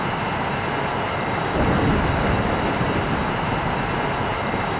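A fixed-wing airplane engine drones in the flight game Airplane Flight Simulator EVO, a dense, steady broadband roar that swells slightly partway through and holds on without pause.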